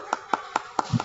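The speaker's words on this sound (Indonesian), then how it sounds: "Ya, tepuk tangan buat kelompok 1." A classroom group claps in a short burst of five evenly spaced, close hand claps for the first student group, each sharp and distinct with nothing else audible between them.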